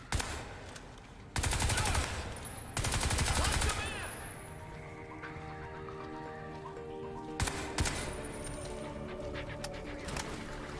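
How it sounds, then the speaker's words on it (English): Loud bursts of rapid turret machine-gun fire in Crysis 3 Remastered come in two long volleys, then a shorter one, with quieter ambient and bird-like game sounds in between. "The fucking turret is targeting us!"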